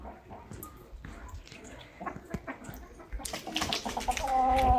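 A rooster crows loudly toward the end, after scattered clucking and farmyard rustling, with steady outdoor background noise.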